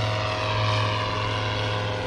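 A small propeller airplane flies overhead outside the city of Cluj, its engine a loud, steady droning buzz with a strong constant hum and no letup for the whole moment.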